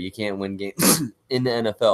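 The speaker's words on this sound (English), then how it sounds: "What was that noise? Did you sneeze?" One sharp, loud, close sneeze bursting out between stretches of someone talking about football, followed by a brief silence before the speech resumes.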